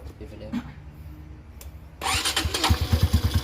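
A motorcycle fitted with an aftermarket Heng Suphan camshaft cranks with a short starter whir, then catches and runs with a loud, close, lumpy rhythmic idle; someone speaks faintly before it fires.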